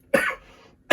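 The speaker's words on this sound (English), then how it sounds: "this time of year, I have coughing fits" Two sharp coughs from a person with allergies, close and loud, separated by a short breathy pause.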